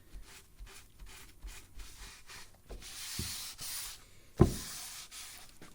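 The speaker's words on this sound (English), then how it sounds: "I'll go through here and wipe down all of this dust before we paint" A tack cloth wipes dust off wood before painting. Close, soft rubbing and brushing strokes repeat in an irregular rhythm, ending with a couple of light knocks.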